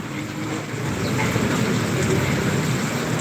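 Dense, loud broadband hiss of heavy rain pouring steadily in Gubat, Bicol, with a deep rumbling undertone throughout.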